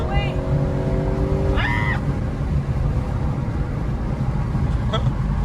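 A 500hp Lexus RC F driving under heavy throttle, a steady loud engine drone inside the cabin, with brief rising whistle-like tones and people speaking over it.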